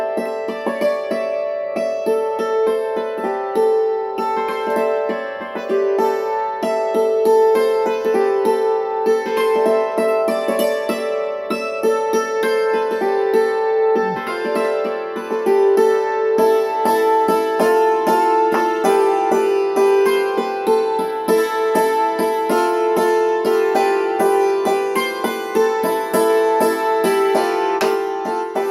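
The folk tune Stockfish played as a lively solo melody on a plucked stringed instrument, with quick repeated notes and a steady driving rhythm throughout; close and continuous, with no talking.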